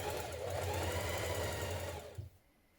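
A sewing machine runs steadily, stitching a welt piece onto a pair of Mitchell trousers, with a fast, even whir that holds for about two seconds and then stops abruptly.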